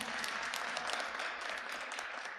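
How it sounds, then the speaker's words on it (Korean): A church congregation claps during a Sunday sermon, a dense, even burst of many hands applauding together, moderately loud and steady throughout. "박수 한번 해주시기 바랍니다."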